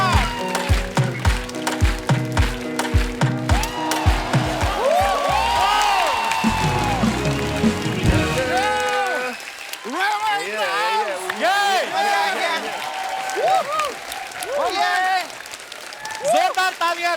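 A studio audience on a talk show applauds and cheers for a Nigerian Afrobeat star over loud music. The steady clapping runs under the song throughout.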